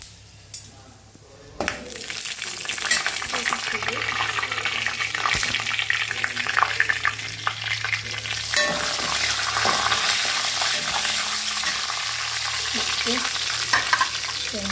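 Curry leaves fry and sizzle steadily in a hot pan, a continuous loud crackling hiss that swells after a brief quiet start, with occasional stirring scrapes and no talking.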